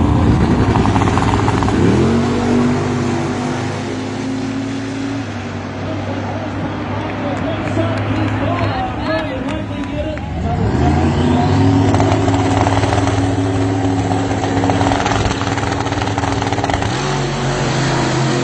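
A race car engine revs hard through repeated acceleration runs during a second chance race, rising and falling in pitch several times, with talking over the roar throughout.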